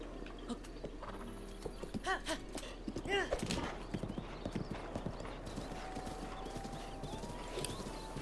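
Horse hooves clip-clop at a stable in the video game The Legend of Zelda: Breath of the Wild, a close rhythmic trot with a whinny, then steady hoofbeats under a faint tone.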